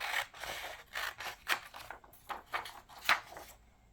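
Scissors snip through a paper page in a quick series of about eight close, crisp cuts, each a short papery crunch with brief pauses between, in a quiet room with no voices.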